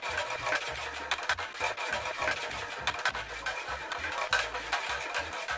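Vinegar and washing powder stirred together in a container for cleaning a flower pot: repeated rhythmic scraping and swishing strokes, close and fairly loud, with no talk.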